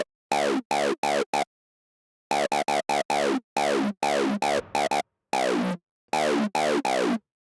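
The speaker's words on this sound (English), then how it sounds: "let's add a transient processor to bring in the transients of the acid sound" An acid synth built from scratch in FL Studio Patcher, run through a high-pass filter and a transient processor, plays short, sharp, pitch-bending staccato notes in bursts with brief gaps, quite quiet overall.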